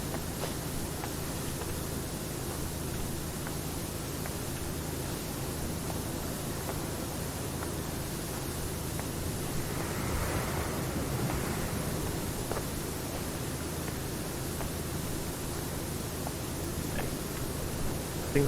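A pressure washer sprays continuously in the video game PowerWash Simulator, making a steady, even hiss like rain or running water that never pauses.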